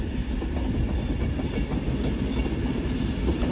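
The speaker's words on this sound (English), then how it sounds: "39103 off to, I would say, Edinburgh Waverley from London Euston" Passenger train 39103 on the line at Carlisle, running from London Euston toward Edinburgh Waverley, roars past close by, a loud continuous rumble with rhythmic clickety-clack of wheels over rail joints throughout, no voices.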